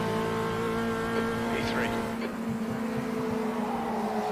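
A heavy race car in the Automobilista 2 sim racing game drones steadily with a sustained engine tone, brief tire scrubbing sounds mid-way, under a voice talking over it.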